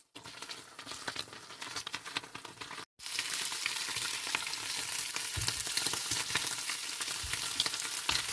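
Bacon fries in a pan with a dense, continuous crackling sizzle, close and even, broken only by a brief dropout partway through.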